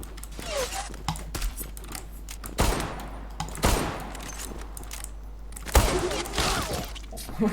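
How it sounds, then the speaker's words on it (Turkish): AWP sniper rifle shots fired in the online shooter Zula, heard as several loud, sharp cracks spaced a second or so apart over steady game background noise. "Ben sana AWP'li güzel bir zoom shot kralı yapayım bekle"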